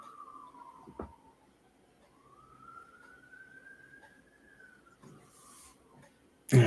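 A distant siren wails in the background, rising and falling slowly over a quiet room, with a loud bump near the end.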